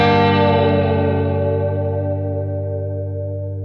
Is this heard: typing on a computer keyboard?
no